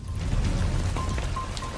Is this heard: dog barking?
no